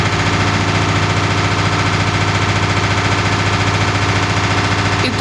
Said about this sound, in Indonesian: Itu buat pengeringnya.